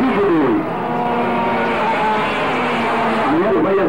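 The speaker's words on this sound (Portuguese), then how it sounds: "Aí ele vai acelerando." Go-kart engines at a 1996 kart race in Ji-Parana drone and rise in pitch as the karts accelerate, a loud, continuous buzz with passing swells, without clear speech.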